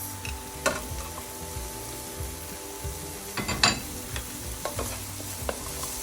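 Sausages, peas and carrots frying over medium heat in a pan while being stirred, a steady close sizzle broken by scraping and clattering stirs at irregular moments, with no talking.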